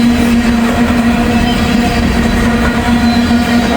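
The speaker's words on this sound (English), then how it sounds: "After this train passes" A train rolls past close by, a loud continuous rumble with a steady droning hum and faint rail clatter that holds evenly from start to end.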